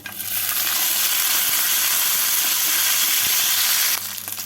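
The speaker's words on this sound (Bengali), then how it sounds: "এবারে এর মধ্যে ভেজে রাখা চিকেনগুলো দিয়ে দেব" Pre-fried chicken pieces for honey chicken dropped into hot oil with julienned ginger in a pan, a loud continuous sizzle that swells at once, holds steady under occasional stirring and then cuts off sharply near the end.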